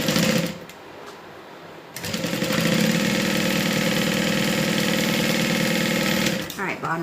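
A sewing machine stitches across the bottom of a Becca Bag by Butter Bags, running in a steady close mechanical whir for several seconds after a brief pause, then slowing to a stop.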